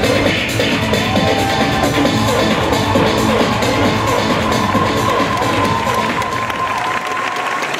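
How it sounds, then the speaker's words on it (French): An audience at a cosplay show claps and cheers loudly, with shouts and whoops over a steady bed of applause that holds strong throughout. "On les applaudit bien fort"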